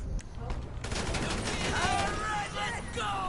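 Gunfire in a PS4 video game: rapid rattling shots and bursts fill the clip, with brief game voices or effects rising near the end, loud and continuous.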